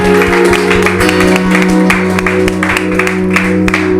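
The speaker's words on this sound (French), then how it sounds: "Et nous acclamons très fort pour la gloire de Dieu" A church congregation at a New Year's Eve service claps together in dense, steady applause that fills the room, with sustained musical tones ringing underneath.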